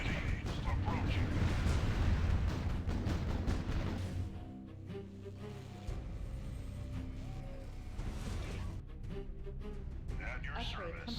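Ship guns firing in a naval video game: heavy booming blasts under a continuous rumble, loudest at the start and then easing, with game voice lines and engine noise mixed in.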